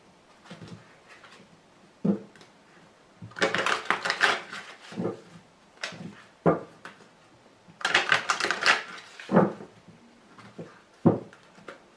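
Tarot cards being laid out and handled on a table, soft intermittent slaps, shuffles and sliding bursts in irregular clusters, close and fairly quiet.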